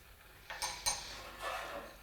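Dishes and a kitchen trivet set down on a counter while making an apple tart, giving a few light clinks and clatters close by, spread over about a second, with no talk.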